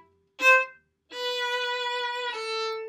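A violin plays a short practice passage from the second violin part of Eine Kleine Nachtmusik, close and alone: one brief note, a pause, then a long sustained tone that shifts to a lower pitch.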